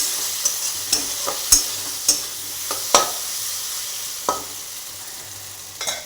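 Potatoes, onion and spices frying in a pan, a soft steady sizzle punctuated by sharp scraping stirs at irregular intervals, close and clear with no talking.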